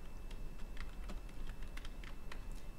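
Typing on a computer keyboard while adding a label in Google Drawing, a handful of soft, irregular key clicks over a faint steady background hum, close and quiet with no talking.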